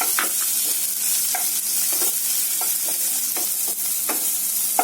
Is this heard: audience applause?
no